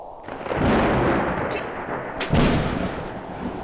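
Explosions in the Roblox game Natural Disaster Survival boom loudly and close, as a deep rumbling blast rolls on and a second heavy thud lands partway through, with no talking.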